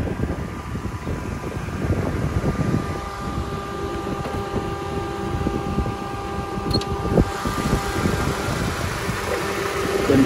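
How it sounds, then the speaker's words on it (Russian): A 1999 Hyundai Lantra 1.6 engine idles steadily with the air conditioner's constant blowing hum over it, close and fairly loud, with faint clicks and no voices. "Кондиционер работает, поэтому так шумновато."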